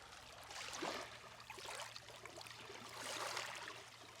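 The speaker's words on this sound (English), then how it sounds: "Just take a listen to these calm waves." Calm waves lapping on Lake Okeechobee in South Florida, a soft, steady wash of water with gentle swells rising and falling, heard alone over a low constant hum.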